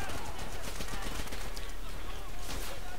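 An MP44 rifle fires continuously in Call of Duty: World at War, a dense and steady stream of shots in a loud battle din, with a voice speaking over it.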